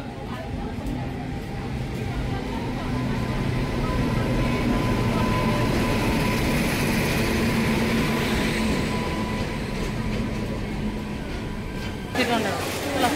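A passenger train rumbles into Balasore (Baleswar) railway station in Odisha. A steady, heavy rolling roar fills the whole stretch and swells slightly in the middle, with people's voices faintly mixed in.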